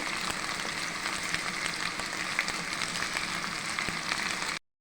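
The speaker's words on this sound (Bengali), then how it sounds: "এখন এর মধ্যে মরিচ বাটা দিয়ে দেবো" Fish curry fries steadily in a pan as chili paste is added, giving a continuous soft sizzle with faint stirring taps, close and even, with no voices, before it cuts out abruptly.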